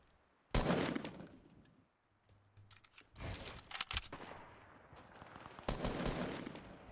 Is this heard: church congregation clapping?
no